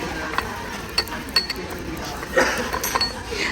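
Sesame seeds crushed in a hand grinder at a restaurant, giving faint scattered mechanical clicks and ratcheting creaks that come in short irregular bursts against a quiet room.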